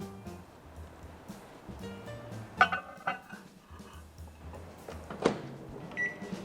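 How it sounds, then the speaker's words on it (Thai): A microwave oven hums faintly and steadily while heating a bowl of water holding spring onion leaves, with a couple of light clinks breaking the quiet drone. "แล้วก็เอาใส่ถ้วยที่ใส่น้ำไว้เข้าไปเวฟเพื่อให้ผักนิ่มตัวลง"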